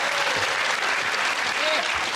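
A studio audience on a comedy panel show claps, a dense burst of applause that is loud and close and fills the brief moment throughout.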